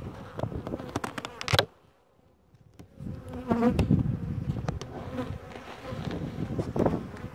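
A strong honeybee colony buzzes steadily at an open hive during a spring inspection, a dense close hum with a brief quieter gap and scattered knocks of handling.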